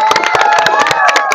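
Loud, dense crowd noise fills the air at the Raja festival in Odisha, a steady wash of clapping and cheering from an audience with shouting voices mixed throughout.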